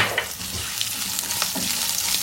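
Sliced onion with curry leaves, green chilli pieces and asafoetida frying in hot oil, a close bright sizzle with a few soft stirring clicks and bumps, steady and moderately loud, no voices.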